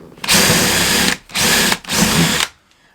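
A power drill bores a hole through plywood toward a stud behind it, three loud close bursts of high whirring, the first about a second long and the next two shorter, separated by brief pauses, with no talking.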